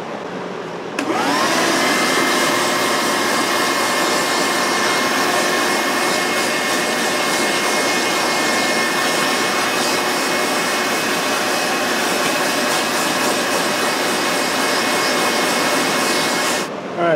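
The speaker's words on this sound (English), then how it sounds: "One of the easiest ways you can clean all this crap off of really anything is to vacuum it." A vacuum cleaner roars on loudly and runs steadily with a high whine for the whole stretch, sucking debris off a worn Craftsman lawn mower, then cuts off at the end.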